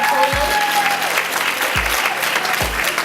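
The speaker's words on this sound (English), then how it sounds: "And clap for her again" An audience at a Reel Sisters of the Diaspora 20th anniversary event claps steadily and warmly throughout, a dense continuous applause with a few low thumps underneath.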